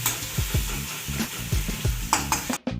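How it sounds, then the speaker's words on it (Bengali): Ginger and garlic fry in hot oil over a medium gas flame, a steady close sizzle broken by repeated stirring scrapes and clinks of a spoon against the pan, with no talking. "আমি আদা রসুনটাকে একটু ভেজে নেব ভালো করে"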